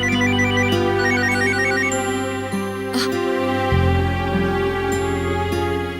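A phone ringtone plays a repeating electronic melody, loud and steady throughout, with no voices.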